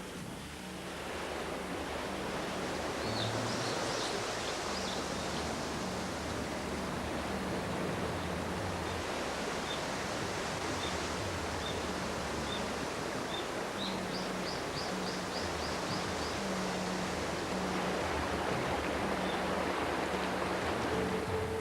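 Steady rain falling outdoors in Kyoto at the close of a water-themed shrine festival, a continuous broadband hiss of even intensity throughout, with faint chirping bird calls threaded in the background and no voices.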